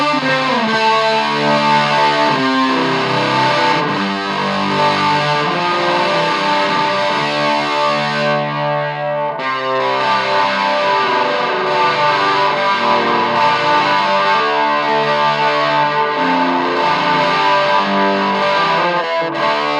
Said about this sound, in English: And then of course you can get your classic sort of goth rock sound.